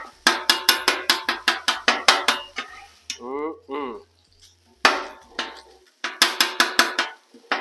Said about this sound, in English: I'm not going to chop it up real fine. Just want to kind of break it up.